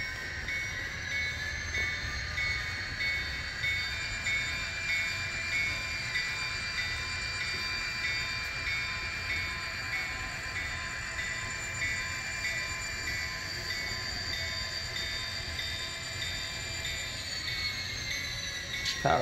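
An Athearn Genesis GP50 model locomotive runs on a layout, giving a steady electronic engine whine and motor hum with faint wheel squeal for about twenty seconds, close and even, with no voices.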